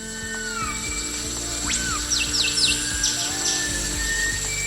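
A dense Sumatran rainforest soundscape: a steady mechanical buzz of cicadas with whistling thrush calls and chirps rising and falling over the top.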